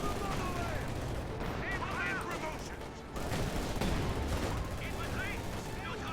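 Gunfire and explosions from a Company of Heroes 2 battle between German OKW and Soviet forces, with steady bursts and booms across the whole stretch, and a voice commentating over the fighting.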